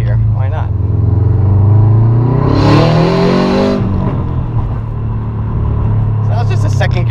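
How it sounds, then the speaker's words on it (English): A 2005 Subaru Impreza WRX STI pulls hard through second gear, its boxer engine rising loud and close in pitch before a sharp crackling backfire as the revs drop, followed by a lower idle rumble. "So that was just a second gear pull. Got a nice backfire there."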